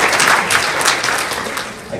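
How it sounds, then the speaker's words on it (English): Dense, steady applause from a crowd at a dental office's patient appreciation evening, many hands clapping together at close range for the full two seconds with no voices on top. "a round of applause for each other"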